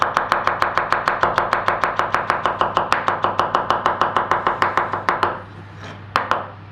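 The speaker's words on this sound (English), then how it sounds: "I'm just going to chop some parsley real quick" A knife chops fresh parsley for a clam and mushroom risotto, striking the board in a fast, steady run of sharp, close taps that slows to a few scattered strokes at the end.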